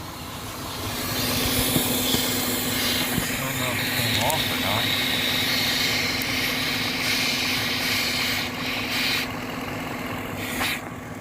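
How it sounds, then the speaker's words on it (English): A vacuum leak hisses from the engine bay of an idling 2006 Cadillac STS with the 4.6L engine, a steady broadband whoosh over the low engine hum, close by, while someone talks over it. "Hear that? It's leaking back here somewhere."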